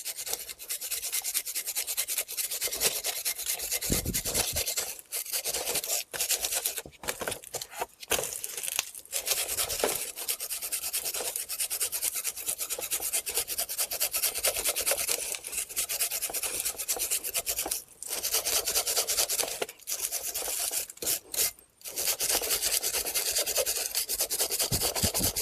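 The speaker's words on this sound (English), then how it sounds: "take a wire brush, and you want to clean up all the corrosion on these points here" A wire brush scrubs corrosion off the rear brake caliper bracket of a Chrysler Town and Country or Dodge Caravan, a harsh continuous scratching up close with brief breaks between strokes and no talking.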